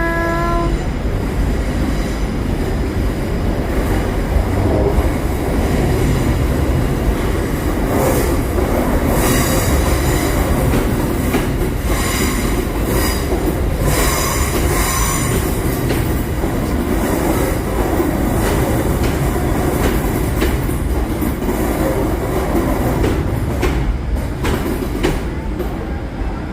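A train pulls into a station platform with a continuous loud rumble and rolling rail noise, wheel squeal and a horn, lasting throughout with no talk.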